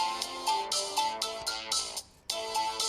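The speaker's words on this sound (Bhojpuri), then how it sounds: "फोन आइल।" A mobile phone ringtone plays a bright repeating electronic melody in quick pulses, loud and clear, with one brief gap before the tune resumes, no voices.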